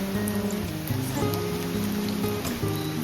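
Steady monsoon rain pours down at a forest resort entrance in Munnar, a dense, continuous hiss of drops on surfaces with occasional louder splashes, close and unbroken, with no voices.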